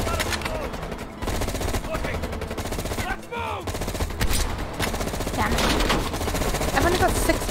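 Sustained gunfire in Call of Duty: Black Ops Cold War, a steady loud stream of rapid shots with brief dips, holding nearly constant throughout, with faint voices mixed in.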